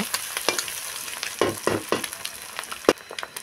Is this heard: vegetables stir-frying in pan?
yes